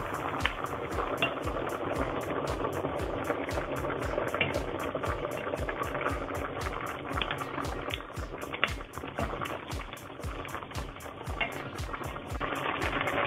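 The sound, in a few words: beef curry vegetables boiling in a pot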